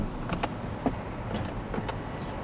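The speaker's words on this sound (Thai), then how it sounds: "แล้วก็กระจกก็ออโต้ทั้ง4 บานนะครับ" Power windows of a 2019 Toyota Camry HV Premium hum briefly inside the cabin, with a few short clicks and soft thumps of switches; close and fairly quiet, no talking.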